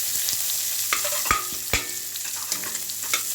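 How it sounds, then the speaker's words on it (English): Chopped onions stirred and frying in a pan for sambar, a steady close sizzle broken by several sharp scraping strokes of the spoon against the pan. "I'm going to stir it up and fry all this together till the onions get almost changes its color."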